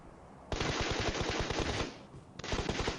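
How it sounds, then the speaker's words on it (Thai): Rapid automatic gunfire in the PUBG Mobile game on the Sanhok map comes in two fast bursts of sharp, punchy shots, the first longer and the second starting after a short pause; no talking. "ยิงหลังฟีเลยพี่ปอนยิงหลังฟีเลยนี่ยิงฟียิงฟีเร็ว"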